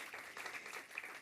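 Brief, soft burst of audience applause at a research institute launch event, a dense, distant patter of clapping hands.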